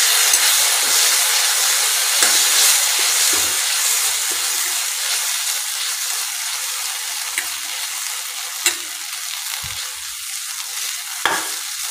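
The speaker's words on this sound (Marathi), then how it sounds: "आता आपण यामध्ये 1 चमचाभर शेजवान चटणी घालतोय। हिला चांगलं असं मिक्स करून घेऊया।" Leftover chapati pieces are stirred with Schezwan chutney in a hot pan, a loud continuous sizzle broken by a few light spatula scrapes against the metal.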